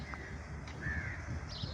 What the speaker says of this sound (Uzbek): Bu yerda ham qarg'alar juda ko'p.